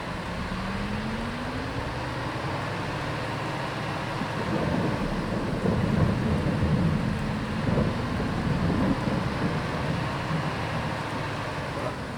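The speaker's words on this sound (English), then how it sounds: "As you can see, it's raining." Steady rain hisses throughout a stormy scene in the farming game Farming Simulator 22, with a low thunder rumble swelling in the middle. No voices can be heard.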